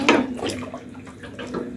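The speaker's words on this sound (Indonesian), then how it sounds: "Ini kita tinggal siram dengan kuah sotonya ya." Beef soto broth being poured from a ladle into a bowl over tomato and sliced scallion and celery, a short, close liquid splash with a few sloshing surges.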